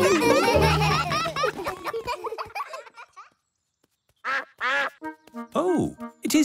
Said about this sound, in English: Oh, it is Mrs. Duck